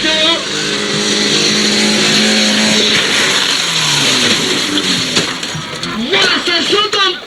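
Stunt cars race around a show track and crash over parked cars, engines roaring and revving loudly with clattering impacts toward the end, under a commentator's constant talk.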